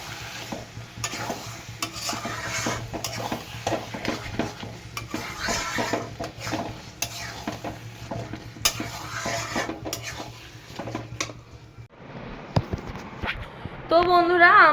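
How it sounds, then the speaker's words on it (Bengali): Hilsa fish pieces and fish heads frying in a pan with steady sizzling, mixed with stirring and clinking of utensils against the pot, continuous and close; the sizzle drops away near the end before louder clatter. "আর মাছের মাথাগুলো ভাজবে।"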